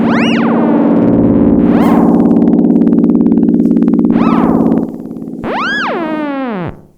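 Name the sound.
Stylophone theremin on full feedback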